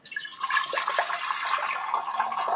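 Water being poured into a pressure cooker while making a dimiri fruit curry, a steady splashing pour lasting a couple of seconds, close and moderately loud.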